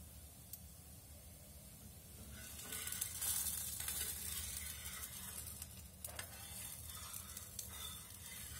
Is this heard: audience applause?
no